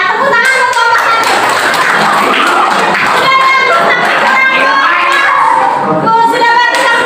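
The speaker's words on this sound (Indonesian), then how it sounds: "Ya, tepuk tangan buat kelompok 1." Applause and clapping for group 1 in a classroom coaching session, dense loud hand claps mixed with voices and children's chatter, continuous and close throughout.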